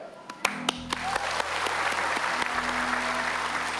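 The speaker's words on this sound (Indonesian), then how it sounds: "Tepuk tangan penonton akan menidurkan Anda" An audience at a stage hypnosis show bursts into applause, with a few scattered claps swelling quickly into steady, dense clapping from a crowd nearby.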